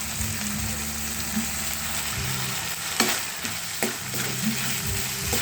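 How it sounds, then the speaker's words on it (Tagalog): Hotdog sautéing in a pan, a soft, steady sizzle with occasional sharper pops and clinks of a utensil against the pan, close but fairly quiet. "Gisahin na rin natin yung hotdog natin"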